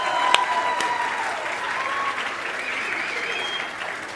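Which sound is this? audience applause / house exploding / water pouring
audience applause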